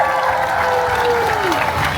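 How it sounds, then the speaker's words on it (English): Audience applause at a county fair, a crowd clapping and cheering steadily for about two seconds with a bright tone sliding across it. "Let's give Marvin and Courtney a round of applause up this afternoon, folks."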